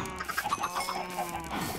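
A quick series of short, clucking bird calls, several in a row, with a faint tonal hum behind them.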